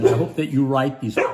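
A dog barks a couple of short times underneath a man's steady, close speech, the barks partly masked by his voice.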